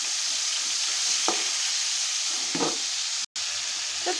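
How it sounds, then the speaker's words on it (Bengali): Meat fries in oil in a pan with a steady, close sizzle and hiss. A few brief stirring scrapes punctuate it, and there is a short dropout near the end. "তেলটা করে মাংসটা একটু ভাজা নেব।"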